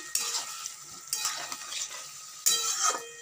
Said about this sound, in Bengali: ভালো করে নেড়ে করে নিচ্ছি।